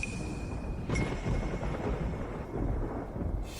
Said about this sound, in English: Thunder and lightning, but no rain.